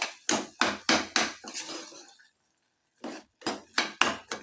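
Jaggery and cloves being stirred in a pan over low flame until the jaggery melts: a spoon scrapes and knocks against the pan in quick, regular strokes, with a short pause midway before the stirring resumes.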